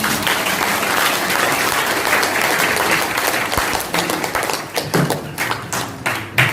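A large seminar audience in an auditorium in Dehri-on-Sone, Bihar bursts into loud, dense clapping that thins toward the end into scattered, uneven claps.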